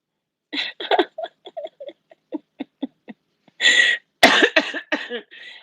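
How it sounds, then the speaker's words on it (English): Repeated coughing, a run of short hacking coughs followed by a few louder, longer coughing fits close by. "We're all coughing session."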